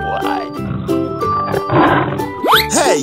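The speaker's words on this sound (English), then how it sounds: "Lion." A lion's roar mixed with other animal calls and rising whooping sweeps, loud and busy over about three seconds within a children's animal transformation sequence.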